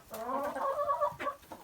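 A few chickens cluck close by in a short burst of throaty, rising calls, clear and moderately loud, with no voices over them.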